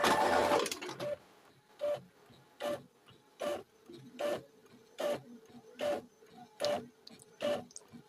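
An Epson L3210 inkjet printer runs off A4 copies, its print head sweeping back and forth in about nine evenly spaced whirring passes, each ending in a short clack, after a louder burst of paper feeding at the start. No one speaks.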